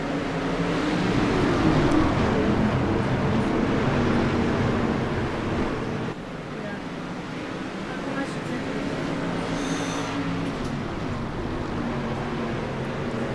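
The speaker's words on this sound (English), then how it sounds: "He hits that loud pedal, and we are green flag racing one more time here at Lernerville Speedway." Race cars roaring around the dirt oval at Lernerville Speedway during a green-flag restart, a steady loud engine drone with some fading midway, under a commentator's voice.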